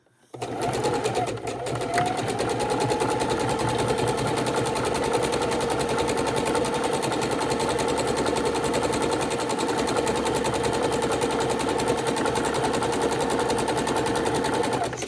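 A sewing machine runs steadily for the whole stretch, stitching a raw edge appliqué heart on a scrappy Valentine's Day quilted table runner. The motor whirs close and continuous after a short start, with no talk over it.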